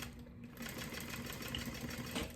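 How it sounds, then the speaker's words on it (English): Sewing machine running steadily while stitching a square crossbody bag with a zipper foot, a quiet, even mechanical whir with rapid needle rhythm throughout, close by. "I make sure I back stitch at my line."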